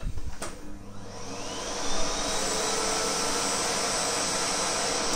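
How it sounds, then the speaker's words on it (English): A vacuum cleaner connected to a power meter switches on and ramps up to a steady, loud whine and rushing hum that holds for several seconds, with no one speaking. "So, vacuum cleaner connected."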